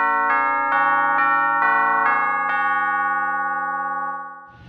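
Chimes played on a Pearl malletSTATION EM1 electronic mallet instrument ring out as a series of six bright, bell-like strikes at an even pace, tones layering and sustaining before fading, with no talking.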